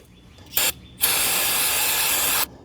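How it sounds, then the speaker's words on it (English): An aerosol can of brake parts cleaner hisses close by during an oil change on a Kohler V-Twin engine. A short burst comes first, then one long, steady spray lasting about a second and a half, with no voices. "Going to take some brake parts cleaner."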